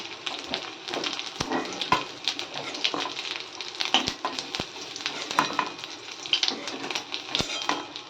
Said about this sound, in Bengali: এগুলোকে একটু ভালো করে মুচমুচো করে ভেজে আগে গরম গরম কটা সবাই মিলে খাবো